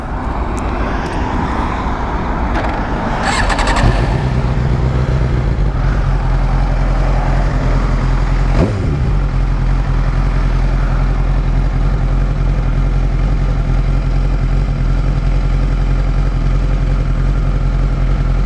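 A Suzuki GSX-R 750 K7 sportbike fitted with a quick shifter runs loud and close, a deep steady engine drone that swells briefly, then settles into an even, continuous rumble.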